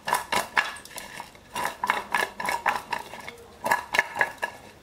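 Sweet potato pieces tossed with salt in a container, giving repeated rhythmic rattling shakes in short bursts, close and fairly loud, with brief pauses between rounds.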